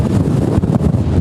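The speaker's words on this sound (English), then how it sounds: "You could hear those winds and the rain just pounding against the window and the walls of our hotel" Hurricane Florence's wind and rain batter the area in Jacksonville, a loud, gusting roar that buffets the microphone with heavy broadband noise throughout.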